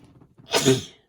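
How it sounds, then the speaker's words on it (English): A single sharp sneeze bursts out after some faint low rustling, loud and close, then quickly fades to silence. "Now I've got to sneeze."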